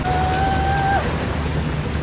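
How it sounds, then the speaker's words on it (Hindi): Heavy storm rain pours steadily in Lahore, a dense unbroken hiss of drops hitting surfaces, loud and close, with a brief faint whistling tone near the start and no voices. "तेज बारिश लगी हुई है, पूरा ब्लर हो गया है, कुछ दिखाई नहीं दे रहा।"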